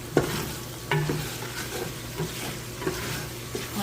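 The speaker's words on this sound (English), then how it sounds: "I'm going to give it a good stir." Garlic, thyme and parsley sweating in a pot as the base for oyster stew, given a good stir: soft sizzling with several distinct spoon clunks and scrapes against the pot, close up and moderately quiet, no talking.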